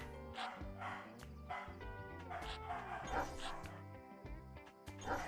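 A pet dog whimpers and yips excitedly indoors, with repeated high whines over bright, tonal slot machine music playing nearby.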